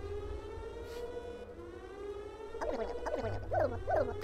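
A wailing emergency siren from the video game That's Not My Neighbor holds a steady drone, then rises into louder rhythmic whooping pulses in the final second and a half.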